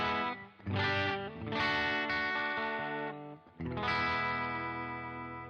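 Electric guitar with a slightly gritty clean tone through a Donner and Third Man Triple Threat pedal, sustained chords with chorus-like shimmer, three strummed phrases ringing out loud and close with no voices.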